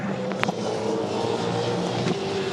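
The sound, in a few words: race cars driving past on the Ipswich circuit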